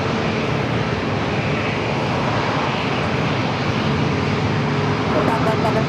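A Lufthansa Airbus A350 jet at San Diego airport gives off a loud, steady, broadband roar that holds unbroken for the whole stretch.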